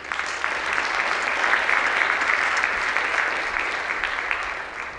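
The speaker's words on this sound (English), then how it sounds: "Clapping is in order." Delegates in a large general assembly hall clap after an amendment passes, a sustained, even wash of applause lasting several seconds at a steady level.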